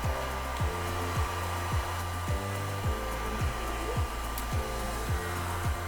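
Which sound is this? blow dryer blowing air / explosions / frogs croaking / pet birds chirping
blow dryer blowing air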